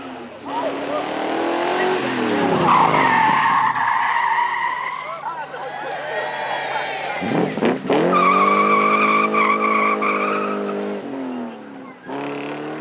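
A supercar skids with its front tyres squealing, long rising and falling screeches over a loud engine, near and sustained, with someone talking over it.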